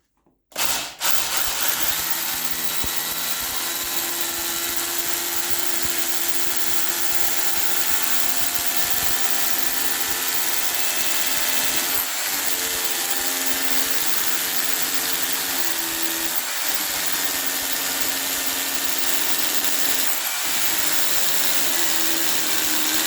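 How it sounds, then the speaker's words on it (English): A Parkside PBH 800 hammer drill bores into hard concrete with a 10 mm SDS bit in hammer mode, a loud continuous rattling grind that starts abruptly and holds steady with brief dips as pressure shifts. "drilling on hard concrete with SDS drill bit 10 millimeters of diameter and 50 millimeters of length. Hammer drill mode."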